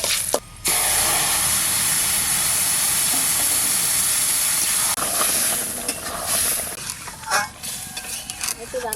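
Loud hissing sizzle as a tempering of bay leaves, dried red chillies and five-spice seeds hits hot oil, a sustained spray-like crackle that settles into bubbling and stirring clatter, with a voice speaking over it.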